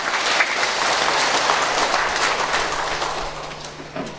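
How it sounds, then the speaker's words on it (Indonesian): Steady clapping from a church congregation honoring its elders at a building inauguration, a broad wash of applause that holds at an even level throughout with no talk over it. "Kita beri tepuk tangan untuk mereka."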